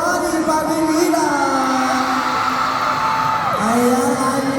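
A fan-event crowd in a mall keeps up a steady roar of whoops and yells, with voices gliding up and down in continuous, fairly loud cheering.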